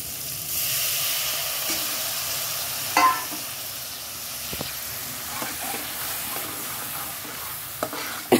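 Paneer-soaking water poured into a hot frying pan bursts into a loud steamy sizzle, then settles into a steady hiss broken by a few scraping stirs and sharp crackles.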